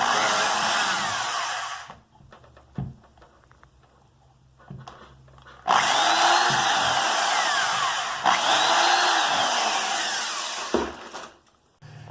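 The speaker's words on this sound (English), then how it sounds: "just go ahead and take your drill and go ahead and finish drilling" A power drill whines loudly in two long bursts drilling anchor holes into a bathroom wall for a towel ring, separated by quieter handling clatter, with the motor pitch rising and falling.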